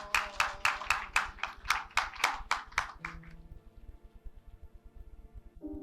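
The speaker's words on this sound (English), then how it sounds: "Can we please give him a round of applause?" Applause at an annual president's dinner and induction ceremony for an award recipient: a dozen or so loud, evenly spaced claps from a small group that stop after about three seconds, leaving a quiet room with low hum.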